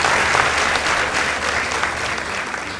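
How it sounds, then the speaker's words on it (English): An audience at a Kenyan high school competition claps for Malindi High School in steady, dense applause that holds loud for a few seconds and then eases slightly. "Let's give them a round of applause."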